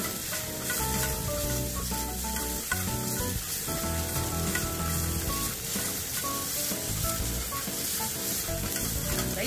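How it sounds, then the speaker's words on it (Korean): Seasoned pork strips, marinated with soy sauce, rice wine, egg white and starch, sizzle and fry steadily in a hot wok for gochu japchae, with stirring and clatter throughout and no talking. "완전히 고기를 다 익혀줍니다."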